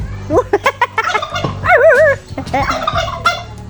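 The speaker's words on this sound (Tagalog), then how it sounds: "nagagalit guys yung pabo kita nyo guys" An agitated turkey gobbles close by, a quick series of sharp, warbling bursts with a wavering note in the middle and people talking over it.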